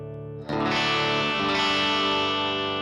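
Electric guitar recorded with an SM57 microphone, lightly distorted at the edge of saturation: a single strummed chord rings out full and sustained after a brief lead-in.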